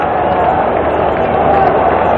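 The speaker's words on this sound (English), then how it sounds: "This crowd seems to think if we make some noise, maybe we can perk him up and get behind him" Crowd noise fills a baseball stadium during a 1988 World Series game between the A's and Dodgers, a steady, loud wash of many voices with no breaks.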